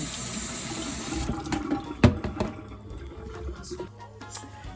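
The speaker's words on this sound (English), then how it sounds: "I have rinsed the green beans." A kitchen tap runs into a sink while canned green beans are rinsed. A steady gush is heard at first, then it gives way to close clatter and the handling of the beans and the can, with no speech.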